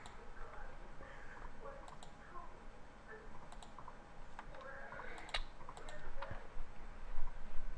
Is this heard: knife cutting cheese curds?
no